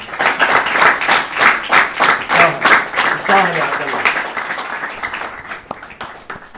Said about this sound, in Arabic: صفقوا مرة ثانية يا عبد الله.